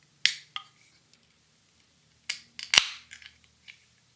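A 2020 vintage stout aged 3 to 5 months in fresh rye whiskey barrels with cocoa nibs is cracked open with a sharp snap, followed by a brief hissing pour and a few small clicks and fizzes, close and with no talk.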